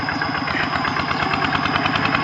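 A tractor engine runs while plowing a rice field, a loud, continuous, close rumble with a steady pulsing throb and no talking.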